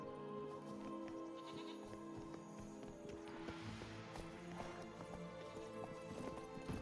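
Hooves of Roach, the horse in The Witcher, clip-clopping in a steady rhythm over a busy game soundscape, faint and blended with other ambient noise.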